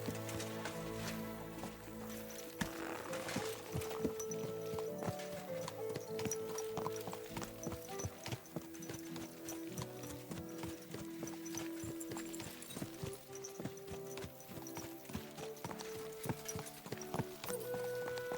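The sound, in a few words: horse hooves while riding, from video game Kingdom Come Deliverance 2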